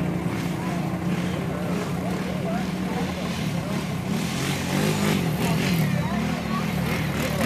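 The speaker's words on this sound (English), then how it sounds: "not a problem holding the throttle down on those ATVs" Kawasaki Brute Force 650 cc ATV engine held at high revs while churning through mud on a mudfest obstacle course, a loud continuous roar under an announcer's commentary.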